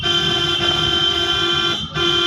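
A long, continuous car horn blares loudly and nearby for over two seconds, with one brief break near the end.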